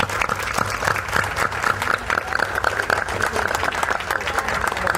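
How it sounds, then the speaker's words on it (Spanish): Applause fills a municipal council session honoring several women, many hands clapping in a dense, sustained patter with a faint murmur of voices beneath. "para quienes pido un fuerte aplauso"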